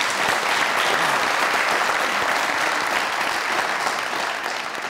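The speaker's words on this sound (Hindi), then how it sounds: "इनके लिए तालियां" An audience claps for a singing sisters' group on stage, a thick steady burst of applause that fills the room evenly and tapers slightly at the end.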